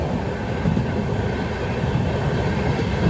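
Steady loud rumble of the Hatia Express passenger train running on the rails between Patna and Ranchi, a dense continuous roar heard from inside a 3AC coach with no pauses.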